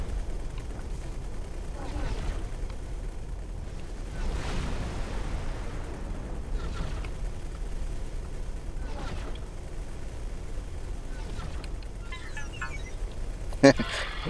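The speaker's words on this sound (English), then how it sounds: "Explosion imminent." Explosions from space combat in the video game X4: Foundations, as defense modules and connectors of a station are destroyed; soft rumbling booms recur over a continuous low roar, with one sharp bang near the end.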